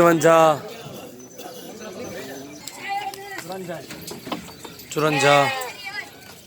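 Sheep at a livestock market or loading area in Hyderabad let out several wavering bleats, loud and close near the start and again later, amid constant background chatter and voices of people counting.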